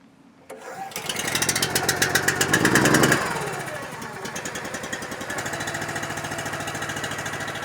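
A high-flow log splitter's engine is started, revving into a loud, steady rhythmic mechanical drone, then settling into a constant pulsing run, close up with no talk.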